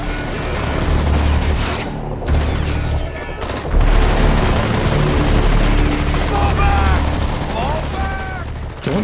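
Heavy gunfire hits Metal Gear Rex in Metal Gear Solid V: dense, sustained bursts of shots and booms roll on throughout, with rotor-like drone and chirping sounds, and nobody talks over the battle.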